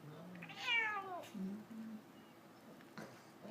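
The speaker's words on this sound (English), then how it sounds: "Good kitty, good kitty, good kitty." A cat gives one clear, drawn-out meow close by, with softer vocal sounds after it and a person talking quietly in the background.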